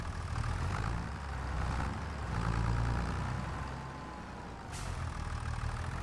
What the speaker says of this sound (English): Let's get on the old tractor.